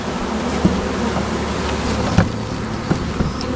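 Honey bees swarm and buzz loudly and steadily while a new colony is introduced to a hive on a mountain farm, with a few sharp knocks and bumps cutting through the dense hum.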